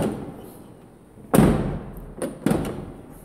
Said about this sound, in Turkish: Kapı çok zor açılıyor.